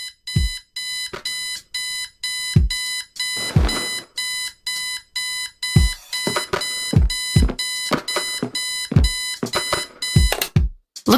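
A digital alarm clock in the point-and-click adventure game Kathy Rain beeps in loud, rapid repeating bursts, alone and insistent for about eleven seconds before cutting off.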